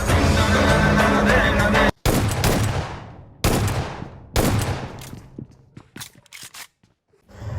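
Shotgun fire in the video game BGMI: several sharp, loud blasts, each followed by a decaying echo, spaced a second or more apart and tapering into quieter shots and brief silence.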